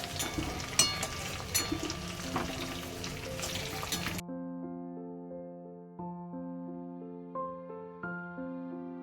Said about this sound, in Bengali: এখানে হচ্ছে পেঁয়াজ ভাজা